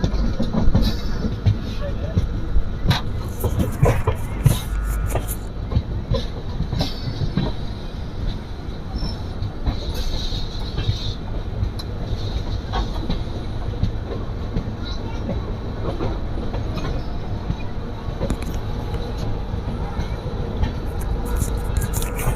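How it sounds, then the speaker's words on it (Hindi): The Hemkunt Express rolls into Shri Mata Vaishno Devi Katra railway station with a continuous low rumble, scattered wheel clicks and clatter, and occasional brief squeals. A voice is faintly present under the train noise. "फाइनली हम एंटर कर रहे हैं श्री माता वैष्णो देवी कटरा रेलवे स्टेशन पर।"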